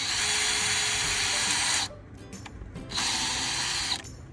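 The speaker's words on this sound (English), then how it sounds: "I'm pre-putting the screws in." A power drill driving screws into wood while a goat milking stanchion is built, two long steady whirring bursts separated by a short pause, loud and close.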